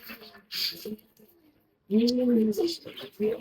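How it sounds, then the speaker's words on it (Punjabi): A pigeon coos softly nearby in a couple of rolling, throaty calls, with some scuffling between them. "ਇਹ ਫਿਰ ਛੱਡਦੇ ਆ ਕਬੂਤਰ ਬੱਚੇ"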